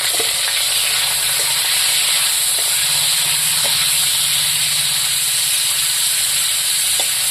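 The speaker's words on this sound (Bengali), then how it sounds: "ভোলা মাছের শুক্তোগুলি আমি এখন ভাজিয়ে নেব।" Dried Bhola fish (shutki) fries in hot oil in a pan, giving off a loud, continuous hiss and sizzle. Small pops and crackles break through the sizzle now and then, and no voices are heard.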